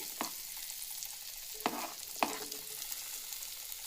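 Tempering spices sizzle in hot oil in a pan as grated ginger and green chilies are added, a soft, continuous frying crackle broken by a couple of sharper stirring scrapes.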